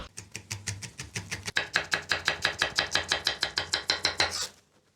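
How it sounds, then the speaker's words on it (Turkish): A knife chops village peppers and red kapia peppers rapidly on a cutting board, a quick steady rhythm of sharp close taps that speeds slightly before stopping abruptly. "Köy biberlerimi de kapya biberlerimi de aynı şekilde doğrayacağım."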